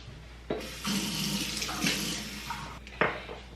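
Warm water runs from a kitchen tap, drawn for feeding a sourdough starter. The steady close splashing rush starts abruptly, shifts in tone as the flow changes, and ends with a brief burst near the end.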